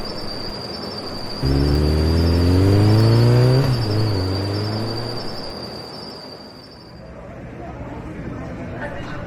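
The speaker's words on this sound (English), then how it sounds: "Hop on my new motorcycle so we can follow them to the airport." A motorcycle engine revs up loudly with rising pitch, holds briefly, then fades away into the distance as the bike drives off, alongside a steady high insect-like whine.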